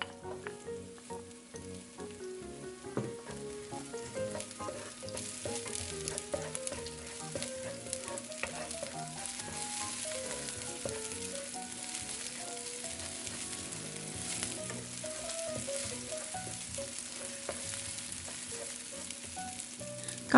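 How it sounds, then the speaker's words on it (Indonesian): Steady, close sizzling and frying of garlic and onion in a hot pan runs throughout, with faint stirring scrapes and quiet background music underneath. "Dengan wajan yang sama, kita tumis bawang putih dan bawang bombay."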